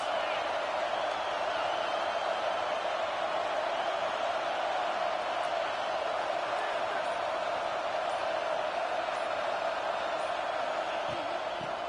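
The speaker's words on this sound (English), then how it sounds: "This crowd trying to make life miserable for this offense." Steady, dense crowd roar from a stadium in a college football video game, FSU versus Oklahoma, a continuous wash of noise holding level throughout with no talk over it.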